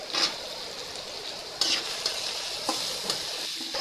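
Potatoes are stirred in a hot pan of frying chicken fried rice, a steady sizzle broken by several sharp scrapes and clinks of the spatula, close and alone.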